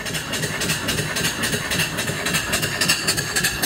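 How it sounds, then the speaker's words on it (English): A brand-new live mill steam engine being broken in runs steadily at moderate speed, giving a continuous close mechanical churn with fast rhythmic chuffing and hiss and no speech over it. "It's a brand new engine, so it's just being broken in."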